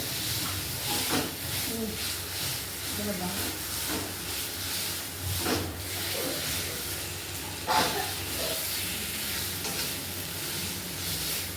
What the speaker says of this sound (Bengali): নেড়ে নেড়ে এটাকে আরেকটু ভেজে নেবো, ভালো করে মিশিয়ে নেবো মশলাটা